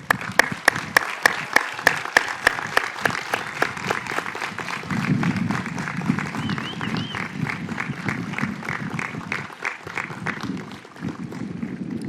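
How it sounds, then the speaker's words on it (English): Graduation audience at a high school ceremony applauding the Class of 2022, a dense wash of clapping that starts with sharp individual claps and swells into steady sustained applause, with crowd murmur underneath. "please join me in a round of applause for the graduates"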